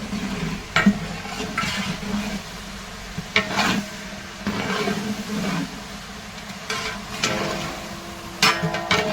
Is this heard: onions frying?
yes